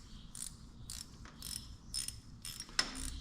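Ratchet wrench tightening a governor bolt on a Detroit 2-53 diesel engine, quiet close clicking in repeated short bursts of pawl ratcheting.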